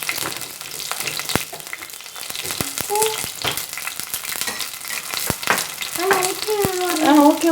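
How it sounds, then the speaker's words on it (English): Shallots, green chili and curry leaves fry in hot oil for pepper chicken curry, a steady loud sizzle broken by sharp crackles and spoon strokes, with light whistling spatters toward the end. "I'm adding in the shallots and the green chili and the curry leaves."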